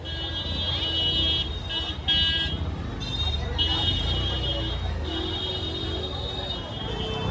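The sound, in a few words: car horns honking in busy Varanasi traffic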